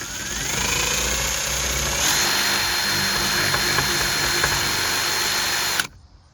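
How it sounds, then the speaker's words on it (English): A power drill with a 1/4-inch bit bores through a plastic ramp extension, whining loud and steady at close range for several seconds before cutting off abruptly. "We're going to drill the inside out of this thing."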